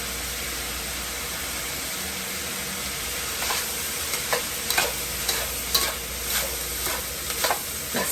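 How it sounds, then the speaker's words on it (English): Day-old chilled pre-cooked rice is stir-fried in a pan with seasoned turkey and ham, giving a constant sizzle broken by repeated sharp scrapes and clatters of stirring, up close and with no voices. "We're going to add our 1 day old pre-cooked and chilled rice."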